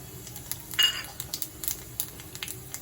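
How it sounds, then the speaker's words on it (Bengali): Nigella seeds sizzling in hot oil in a wok, a crackling hiss with a brief louder burst as they hit the oil, followed by soft repeated pops and light clinks of a utensil, close and fairly quiet. "কড়াইতে তেল গরম করতে দিয়েছি কালো জিরে ফোড়ন দিয়ে দিলাম"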